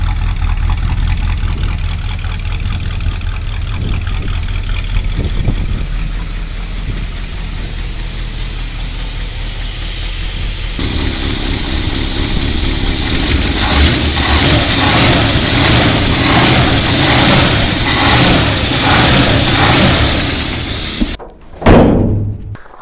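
A 1959 Plymouth Fury V8 runs loud and close, first idling with a low rumble, then revving higher with rhythmic pulses before cutting off near the end.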